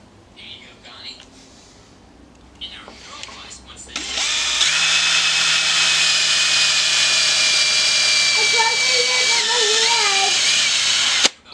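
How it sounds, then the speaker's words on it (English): Faint handling noises give way to a loud, sustained whine of a power drill boring pilot holes to secure a muzzleloader toe plate, running steadily for about seven seconds before stopping abruptly. "I'm going to go ahead and drill them out and secure the toe plate"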